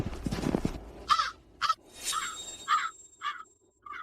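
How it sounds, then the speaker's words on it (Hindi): Crows cawing nearby in a mountain setting, giving about six harsh, separate caws spread unevenly over a few seconds, loud and alone, after a short low rustle. "क्या वह कौवा तुमसे बात कर रहा था?"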